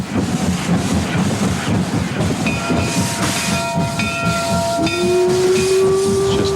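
A steam locomotive chugs steadily with hissing steam and rhythmic mechanical clatter, then a long whistle sounds near the end, loud and close.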